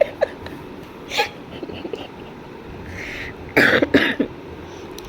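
Two or three coughing bursts, close and fairly loud, separated by quieter breathy sounds in a small room.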